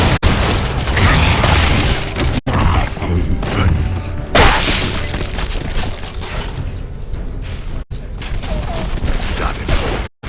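Loud, dense battle noise from Gears of War 2 follows a thrown frag grenade, with heavy booms and crashing debris filling nearly the whole stretch, broken by two brief cuts to silence.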